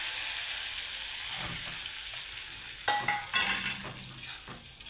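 Palak paneer muthiya are stirred into a hot pan with lemon juice and tomatoes, giving a steady close sizzle broken by a few spatula scrapes and clinks against the pan.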